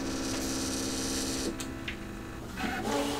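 A Brother ScanNCut machine cutting fabric with its gold fabric blade gives a steady, close mechanical hum with a whirring motor tone and small shifts in pitch as the carriage moves.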